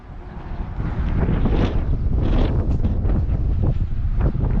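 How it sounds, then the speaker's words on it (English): Steady wind roars and buffets across the microphone along the Victoria Lines fortifications in Mosta, Malta, a constant rushing noise with gusty swells and no voices. "Oh yeah, look, it's getting windy here now."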